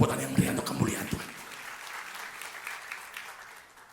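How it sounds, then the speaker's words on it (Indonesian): A church congregation breaks into hearty applause right after a preacher's voice, the clapping dense and sustained, then gradually thinning and fading. "Tepuk tangan yang meriah untuk kemuliaan Tuhan."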